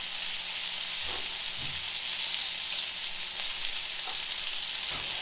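Constant loud sizzling of chicken frying in a pan, with a few soft knocks and scrapes scattered through.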